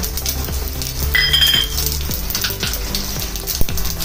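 Mustard seeds, cumin and four or five garlic cloves sizzle in hot oil for a Marathi Pitru Paksha meal, a steady close crackling hiss with light utensil clinks and no talking.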